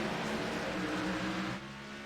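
Race cars accelerate hard on a green-flag restart, producing a loud, dense engine roar that holds steadily before dropping off abruptly near the end.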